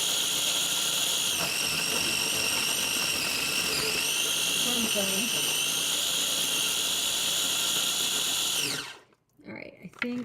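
A food processor chops basil leaves for pesto, its motor whirring loudly and steadily for several seconds before stopping abruptly, followed by brief rustling and clunks.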